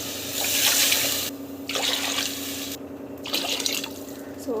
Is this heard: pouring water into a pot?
yes